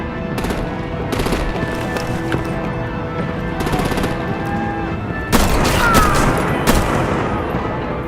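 Rapid machine-gun bursts and gunfire crackle through an artillery battle in the Batman Telltale video game, with several sustained volleys rising to a louder, denser barrage near the end over a constant rumbling backdrop.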